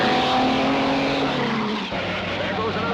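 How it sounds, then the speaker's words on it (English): A race car in a 1950s road race roars past with a loud engine note and tire squeal, the pitch sliding downward as it goes by, with a voice faintly underneath. "There goes another car."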